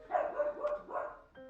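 Several dogs bark outdoors in short, sharp bursts, moderately distant and unaccompanied by talk, with a few yips mixed in.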